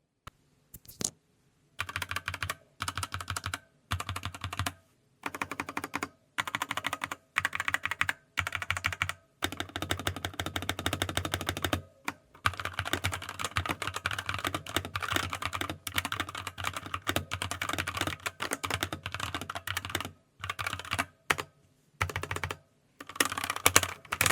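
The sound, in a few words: mechanical keyboard typing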